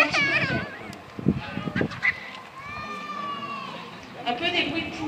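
Harsh, clucking hen-like calls from several vultures at a zoo, some nasal and honking, with a person talking over them at moderate distance.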